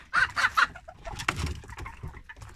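A bantam chicken in a backyard coop gives several loud calls at the start, followed by fainter clucks and background noise.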